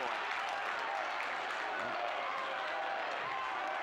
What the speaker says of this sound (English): This whole gym is electric right now. Really cheering on to see it.